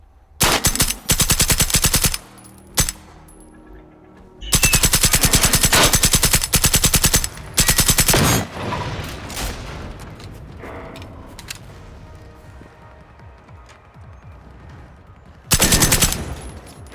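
Gunfire in the video game Generation Zero: loud bursts of rapid automatic fire in several long volleys with short pauses, a single shot, and quieter rumbling game ambience between bursts.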